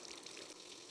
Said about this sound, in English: I'm just going to keep flushing this until the bubbles stop coming out.